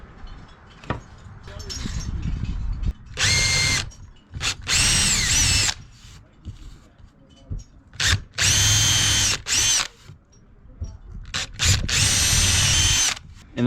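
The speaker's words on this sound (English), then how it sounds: "so I just need to lay out some holes and drill those about 1/4 inch in" A power drill whirs in several separate bursts of a second or two each, close and loud, with quiet pauses and brief handling sounds between, drilling holes about 1/4 inch into wood.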